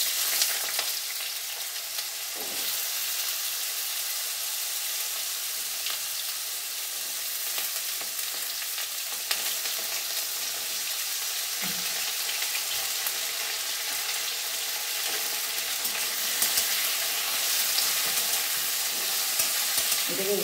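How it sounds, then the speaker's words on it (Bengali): Pieces of elephant foot yam fry in hot oil. A bright, continuous sizzle runs close and steady throughout, with occasional soft knocks of stirring in the pan. "এবার আমি ওলগুলো এর মধ্যে দিয়ে দেবো, তেলটা আমার এসে গেছে"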